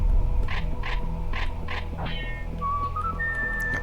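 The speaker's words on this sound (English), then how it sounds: "The Indiana Jones whistle." Indiana Jones whistle tune heard in the Serious Sam video game, a clear melodic whistle of several rising and falling notes ending in a sustained tone, over steady background game noise.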